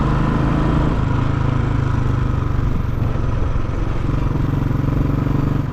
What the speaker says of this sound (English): The exhaust what I am using on this bike is called the P-Shooter exhaust.